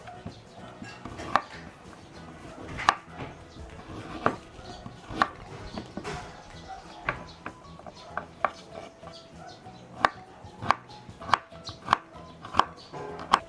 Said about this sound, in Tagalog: And now, we'll cut our carrots.